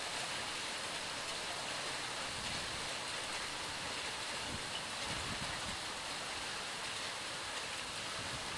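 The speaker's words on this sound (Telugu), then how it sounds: "తెలంగాణలో మరోసారి వర్షాలు జోరందుకున్నాయి" Heavy rain pours over Hyderabad streets flooded with water, making a steady, dense hiss that stays constant throughout.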